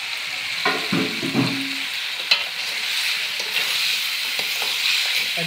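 Desi chicken pieces frying in a pan as they are added, a steady close sizzle with a few clattering stirs and knocks near the start, no talk.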